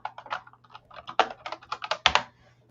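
Typing on a computer keyboard, with a quick, uneven burst of crisp, close key clicks and a few louder strikes, heard alone over a faint steady hum.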